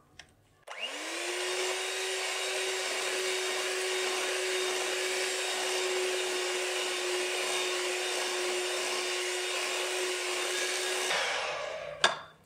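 An electric hand beater whirs steadily through cake batter made with flour and baking powder for a microwave chocolate chip cake, a loud continuous motor drone that starts abruptly, holds even for about ten seconds, then cuts off with a final clunk.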